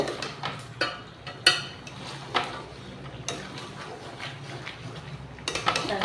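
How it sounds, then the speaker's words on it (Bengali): A utensil scrapes and clinks against a pan while chicken with spices is stirred, giving irregular sharp taps and scrapes over a faint steady background. "একটু নাড়িয়ে দেব"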